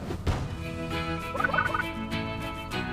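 Chickens on a farm in a Paw Patrol video game cluck and gobble in quick, close bursts over a faint musical backdrop, with a busier flurry of calls in the middle.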